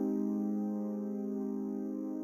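Synth holding sustained chords with a slight bit-crushing effect, a steady, rich tonal drone with little rhythmic movement, played alone.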